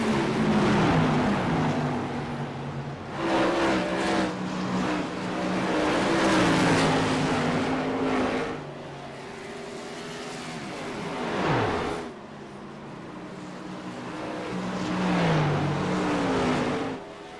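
Tour Mod race cars roar around the Gateway oval, engines loud and near, pitch rising and falling as several cars pass one after another, with a brief lull mid-way before the pack sweeps by again.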